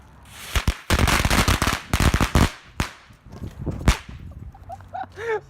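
Fireworks lit with a 1000-degree heated knife go off in a rapid string of sharp, loud cracks and pops, then thin out to scattered bangs and whistling bursts near the end.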